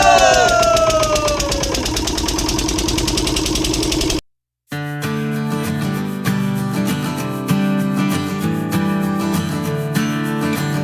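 A boat engine started by the boatman on a Sundarbans river, first a rough cranking clatter, then after a brief gap a loud, steady knocking diesel idle with rhythmic thumps, close by.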